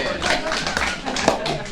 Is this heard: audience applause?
yes